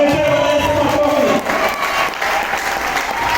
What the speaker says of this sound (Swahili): Mungesema na Yesu makofi